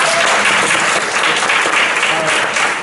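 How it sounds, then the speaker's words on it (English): A conference audience at an impact investing event breaks into loud, sustained applause, many hands clapping densely and evenly for the whole stretch with no pause. "Clap your hands if you learned something new today."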